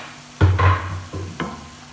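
Finely chopped large onions being stirred into spiced keema mince in a pan, a few distinct scraping stirs with soft sizzling in between, close and clear with no talk.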